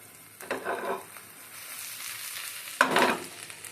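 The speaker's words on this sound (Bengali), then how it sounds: "আগে এই জিনিসগুলোকে আমি একসাথে ভাজবো।" Onion, eggplant and green chillies frying together in a pan, with two bursts of loud sizzling and stirring separated by a quieter steady hiss.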